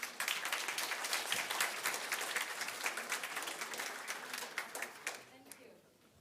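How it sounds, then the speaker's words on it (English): Sustained applause from an audience, many hands clapping steadily for several seconds before tapering off at the end. "Give her an applaud."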